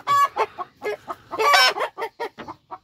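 Hens clucking and cackling in a garden chicken run, a burst of loud, close, agitated calls repeating in quick rhythmic phrases with short gaps, no talking.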